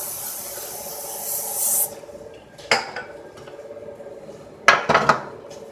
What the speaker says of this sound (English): I'll spray it with my olive oil.